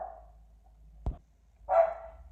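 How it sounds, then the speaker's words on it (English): A dog indoors reacts to a knock at the door with a sharp single bark, followed by a longer whining, crying bark, heard nearby against a quiet room. "Someone had knocked on the door, so my dog went crazy."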